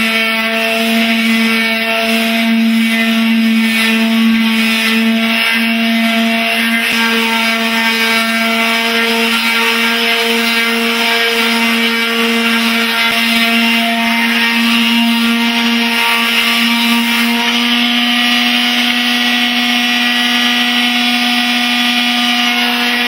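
A power sander works over a wooden buffet, giving a continuous, loud, even motorized hum with a steady buzzing tone throughout and no voices.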